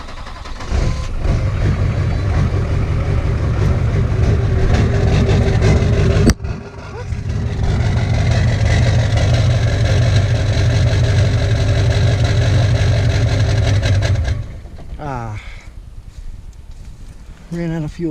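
A diesel engine in a rebuilt rollover wreck cranks and catches, then runs with a steady, loud, close rumble, briefly cutting out before picking back up and dropping off near the end as voices talk over it.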